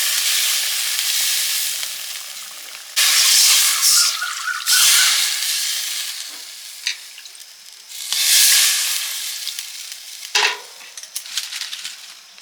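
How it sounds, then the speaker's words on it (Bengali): Salted water poured into a pan of frying rupchanda fish curry base, producing loud bursts of hissing sizzle that surge and fade in waves, with drips and bubbling between them and no voices. "জল দিয়ে দিচ্ছি পরিমাণ মতো"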